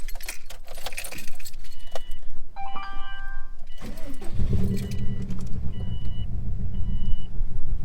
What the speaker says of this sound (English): It's got the titanium key right here.